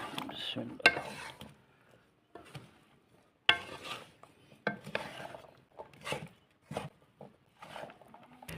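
Chana chaat ingredients with chopped tomatoes, green chillies and coriander being mixed in a bowl: a run of soft, close scrapes and clinks in short bursts, with pauses of quiet between them.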